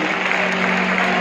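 Audience applause at the Kashi Mahotsav festival in Varanasi: dense, steady clapping from a crowd, continuous and fairly loud throughout, with no pause or swell.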